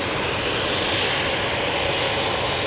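An EasyJet airliner landing at Manchester Airport, its engine roar a steady, broad, fairly loud wash held evenly throughout, with no voices.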